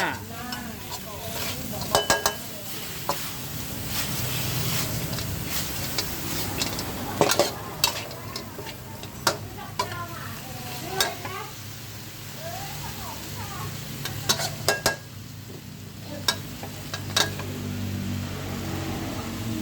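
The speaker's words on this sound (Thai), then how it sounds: "ผัดชาปลาน้ำเงินจ้า" Blue fish stir-fried with chili curry paste sizzles steadily in a pan, broken by frequent sharp metallic clanks and scrapes of a spatula against the pan over about twenty seconds.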